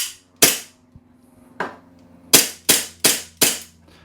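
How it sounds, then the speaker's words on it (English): KWC M1911 CO2 airsoft pistol cycling its blowback slide with no BBs loaded: six sharp, loud cracks with fast decay, spaced irregularly over about four seconds, with faint clicks between shots. "let's do some blowback action just to show you guys"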